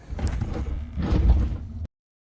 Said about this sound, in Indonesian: dia menutup kembali peti Cherry dan menggeser peti Mick.